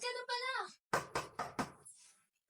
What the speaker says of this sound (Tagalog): Uy, may kumakatok.